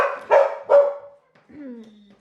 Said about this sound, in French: C'est pour ça qu'il y a Niki qui aboie